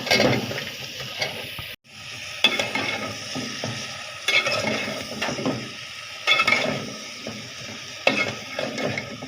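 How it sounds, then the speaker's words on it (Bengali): Vegetables added to turmeric, chili and salt frying in a pan, then stirred: bursts of sizzle and clattering scrapes of a utensil against the pan come in irregular waves, close and fairly loud, with one brief drop near the start. "এখন আমি সবজিটা দিয়ে নিই"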